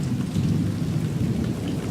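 Heavy rain pours steadily onto surfaces near a balcony during a thunderstorm, with a constant loud roar of falling water and low rumbling thunder underneath, and no voices.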